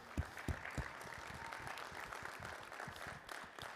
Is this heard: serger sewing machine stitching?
no